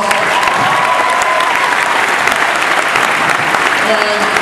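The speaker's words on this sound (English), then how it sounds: "give yourselves a round of applause." A crowd at a Barack Obama campaign rally at Iowa Western applauds loudly and continuously, a thick, close roar of clapping with faint cheering tones threaded through it.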